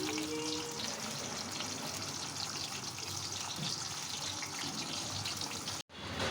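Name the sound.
pointed gourd frying in oil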